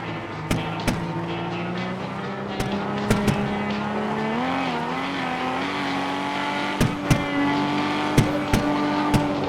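A race car in a driving game brakes hard into a turn with tires squealing. A steady engine drone bends in pitch as it slows, while sharp clicks and knocks repeat throughout.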